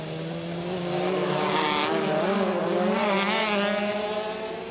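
A Citroen touring race car at WTCC qualifying in Morocco screams along at high revs in a steady, loud engine drone with slight pitch waves through gear changes, heard alone without commentary.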